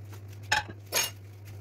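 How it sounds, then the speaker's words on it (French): A silicone spatula scrapes the bottom of a saucepan while rhubarb tart filling is made, giving two brief, soft scraping strokes over a steady low hum with no talking. "pour racler à fond la casserole, on prend la spatule silicone"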